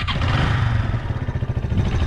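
A Sym Wolf 150 motorcycle with a Honda CB150-style engine idles close by, a low rapid chugging beat that stays steady and fairly loud, with no voices.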